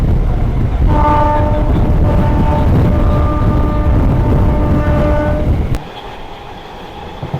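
A local train runs non-stop on the Barddhaman–Howrah chord line, loud steady rumble and rail clatter close by with a long sustained horn, then the roar drops sharply to a quieter rolling hum.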